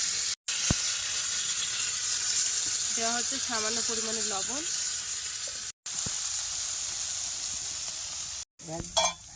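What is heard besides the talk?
green peas frying in oil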